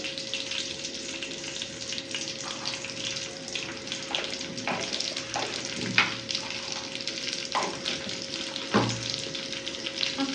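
Cumin seeds sizzle steadily in hot oil for a cauliflower masala, a constant crackling hiss with scattered sharper pops and a few louder spits, close and without talk.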